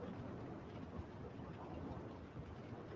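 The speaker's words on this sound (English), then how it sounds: "the rain is louder, the thunder is louder." Stormy weather ambience from the video game Suicide Squad: Kill the Justice League, with steady heavy rain, gusting wind and low thunder rumbling, forming a dense, unbroken wash of noise throughout.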